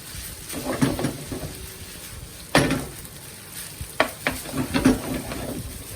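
Chicken risotto frying in a pan: oily sizzling with scattered sharp pops and crackles, a few louder bursts standing out from the steady hiss.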